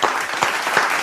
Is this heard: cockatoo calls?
no